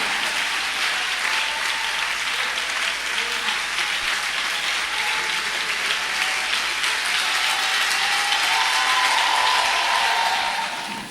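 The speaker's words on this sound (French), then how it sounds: "On acclame fort la révélation. On acclame fort." Pentecostal church congregation applauding loudly and steadily, a dense wash of clapping that holds for the full stretch with no talk over it.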